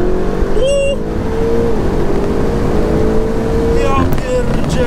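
An 825 HP BMW sports car engine drones steadily and loudly, rising in pitch as it revs, with brief voices breaking in near the start and end.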